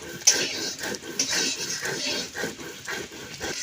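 Chili is ground by hand into paste on a stone for a village-style country chicken curry, giving steady rhythmic scraping strokes, roughly three a second, close and moderately loud.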